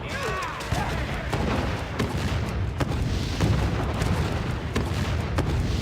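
Chain gun fire in World of Warcraft, heard as a rapid string of sharp, evenly spaced bursts over loud combat noise, with talk running through it.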